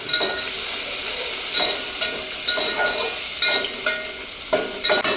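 Tomatoes dropped into a pan of onions fried until reddish-brown with bay leaf, for a village-style fish curry, giving a steady loud sizzle with periodic stirring scrapes and bursts.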